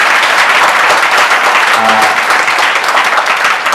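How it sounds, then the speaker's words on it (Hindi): Loud, dense applause from an audience, steady clapping filling the whole stretch without a break, with a faint voice briefly audible partway through. "तो एक बार जोरदार ताली हो जाए विपिन के लिए।"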